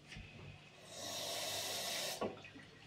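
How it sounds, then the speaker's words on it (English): Water is poured into a blender jar holding green pepper and herbs, a soft, quiet hiss lasting about a second, with light knocks before and after. "And I'll add a bit of water"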